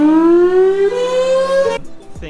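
A civil defense air raid siren winds up, its wailing tone rising steadily in pitch for nearly two seconds, loud and close, before cutting off abruptly.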